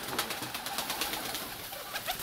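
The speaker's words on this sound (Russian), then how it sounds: "Да, мои хорошие голуби." Pigeons cooing softly as grain is scattered for them to eat, low muffled coos repeating over a steady background hiss.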